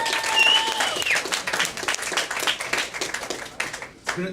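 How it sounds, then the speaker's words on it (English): A comedy club audience applauds, close and lively clapping that swells early and then thins into scattered claps, with a voice cutting in briefly near the end. "Give him a big round of applause."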